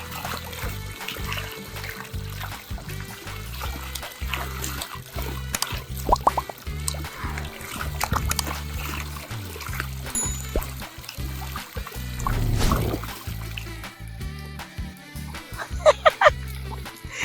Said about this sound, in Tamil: எல்லா பக்கமும் தண்ணி ஊற்றணும்லங்க, அப்படிதான் ஊற்றணும்ல மேலே